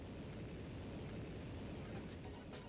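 Faint, continuous whooshing roar of an enemy spewing fire in Ape Escape 3, a hissing rush that barely rises or falls across the short stretch.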